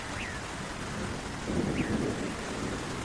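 Cartoon rainstorm: a steady hiss of heavy rain with a low thunder rumble swelling in the middle, continuous and fairly loud with no talking.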